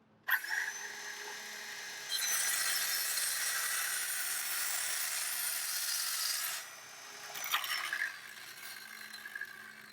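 A power saw cutting wood: a loud, sustained whining buzz for several seconds as the blade bites through the board, followed by a shorter second cut, with no talking.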